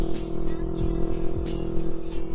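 A car engine idles steadily while warming up, a constant low hum with a few faint revs and passing rumbles, close and continuous throughout.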